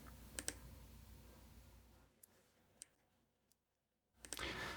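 A computer mouse clicks a few times while muting mixer inserts in FL Studio, sparse quiet ticks at close range separated by near silence, with a louder burst of clatter at the end.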